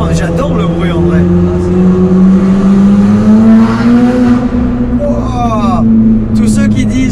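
A McLaren fitted with a Quicksilver downpipe exhaust revs loudly and close, its engine note rising and holding, while people talk over it.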